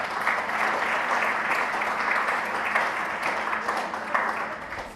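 Sustained applause fills a community gathering at the official opening of a youth center, honouring a speaker. It is steady, dense and fairly loud, with no voices over it.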